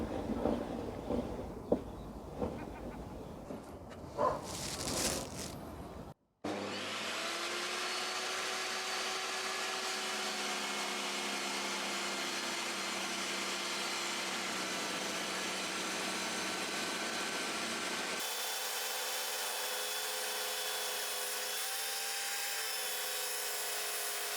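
A Rutlands R1618 table saw cutting 7.5 cm thick sapele hardwood: some clattering handling sounds, a brief cut-out, then a loud steady whining blade roar under load that shifts to a lower tone partway through and runs to the end.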